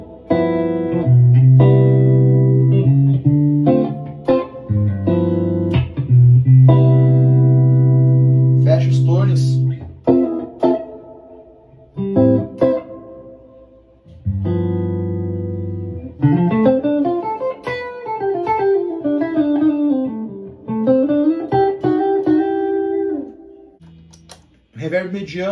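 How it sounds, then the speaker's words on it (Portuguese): An electric guitar plays jazzy, R&B-style chords and single-note lines through a medium reverb pedal with a short tail, loud and close, each note ringing briefly. "como eu gosto gosto muito do jazz, da pegada mais R&B, eu uso muito esse reverb"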